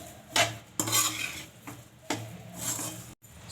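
Roasted semolina being mixed into hot mawa in a pan, heard as a handful of close spoon scrapes and metallic clinks in uneven bursts, with brief pauses and no voices.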